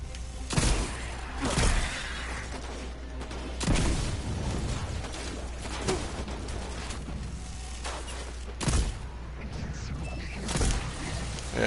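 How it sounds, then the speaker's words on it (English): Several loud, sharp hand cannon gunshots in Destiny 2 ring out at irregular intervals over steady background ambience and music, each blast a heavy, booming report. "Let's try this hand cannon out."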